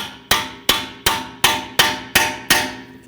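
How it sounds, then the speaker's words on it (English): Eight sharp metallic hammer taps in an even rhythm on a rusty rear brake part of a Volkswagen Tiguan, ringing loud and close with no talking. "I'm just going to give this a tap with a hammer."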